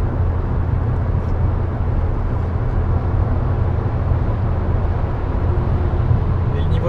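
An Audi A3 1.8T from 2002 cruises in fifth gear, heard from inside as a steady, muffled low road and engine drone with little exhaust noise.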